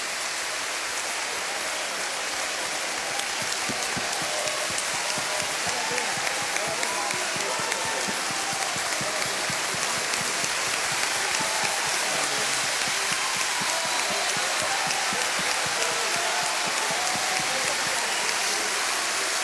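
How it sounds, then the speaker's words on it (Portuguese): A church congregation claps together in sustained, dense applause that stays even and loud throughout, like a steady downpour of hands. "Aplauda ao Senhor Jesus"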